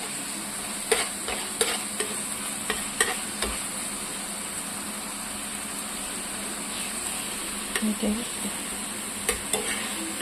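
Spice paste sizzling and frying in oil in a pan for a thin fish curry with aubergine and potato, a steady low crackle broken by occasional stirring scrapes and clinks.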